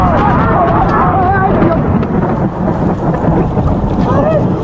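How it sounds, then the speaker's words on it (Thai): Deep thunder rumbles at a water park, a dense, sustained roar heard under people talking. "ฟ้าผ่าเหรอเออฟ้าผ่า"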